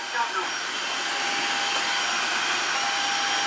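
A Dreame H11 Max cordless wet-dry floor vacuum cleaner runs in water-absorption mode, giving a steady, loud motor whine and broad airflow hiss throughout with no break.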